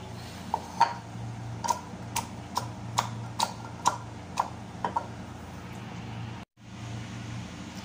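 Garlic is crushed by hand in a small container, giving a run of about nine sharp, close pounding knocks at an irregular beat over a low steady hum, then a brief drop to near silence.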